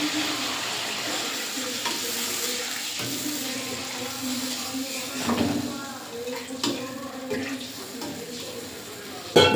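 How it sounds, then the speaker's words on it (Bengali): Water poured onto sizzling spice paste in a pan for a jackfruit kofta curry sets off a bubbling hiss along with stirring and clinks of utensils, and a voice speaks in the background. "মশলাটা কষানো হয়ে গেছে, এবারে জল দিয়ে দেবো।"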